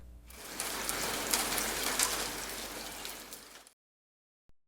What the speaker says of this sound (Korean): 비가 와요.